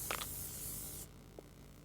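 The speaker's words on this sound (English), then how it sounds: "I'm gonna go test out the Slender Spray." Slender Spray fired in the horror game Slendrina: The School, a steady loud hissing spray for about a second that then cuts off, leaving a low background hum and a faint click.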